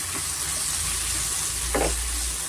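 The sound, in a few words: frying coriander for brinjal chutney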